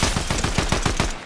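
Rapid automatic gunfire in an online battle royale video game, about nine loud, evenly spaced shots in quick succession.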